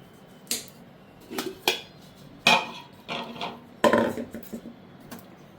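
Bitter gourd is chopped into small pieces on a board, with irregular knife knocks of varying strength spread over several seconds and no speech.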